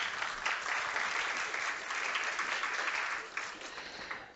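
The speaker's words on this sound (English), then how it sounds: "Let's give a big round of applause to Rob Pickering." Conference audience claps steadily for a speaker, a soft, even wash of applause from a moderate distance that gradually tapers off.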